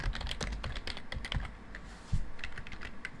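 Quick, close typing on a computer keyboard while building a WordPress website, a steady run of crisp clicks with a few heavier keystrokes and no voice.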